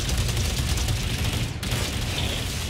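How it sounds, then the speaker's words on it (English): Dense, continuous gunfire from a firefight in the space game Starbase, a loud sustained barrage with booming bursts filling the whole stretch, with no speech over it. "I'm getting shot from behind"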